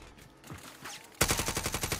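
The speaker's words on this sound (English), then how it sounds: "That's a lot of shooting." Rapid bursts of video game gunfire erupt after a quieter opening, a dense run of repeated shots loud and close to the end.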